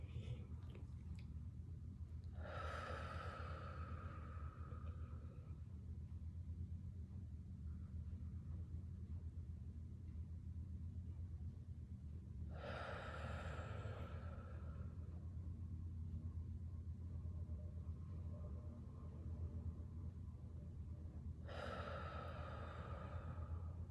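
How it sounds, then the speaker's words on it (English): Three slow, deep breaths come about ten seconds apart, each a soft, drawn-out exhale rising over a quiet, steady room rumble. "just take a few slow deep breaths with me."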